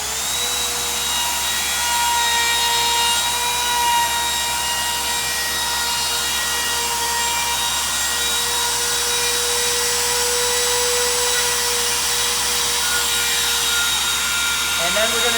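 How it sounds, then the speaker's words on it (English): A wood router fitted with a 1/8 inch round-over bit runs at full depth along the edge of a wooden mirror letter K. It gives a steady, loud high-pitched whine with continuous cutting noise throughout, and no talk is heard. "We're going to use an 1/8 inch round over bit. I have it set at the full 1/8 inch depth."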